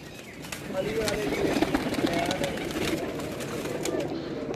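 Tiger pigeons on a rooftop loft coo softly and continuously beneath someone talking, with steady background noise throughout.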